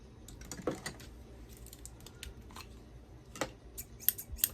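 Several sharp snips of scissors cutting through quilting fabric, irregularly spaced with quiet gaps between them, close by.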